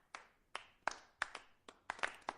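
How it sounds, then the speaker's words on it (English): A small audience gives sparse, scattered clapping after a joke on a live horse-racing show: about eight separate claps spaced unevenly, close and fairly quiet, with no talk over them. "Oh, yeah, not many claps there, Frank."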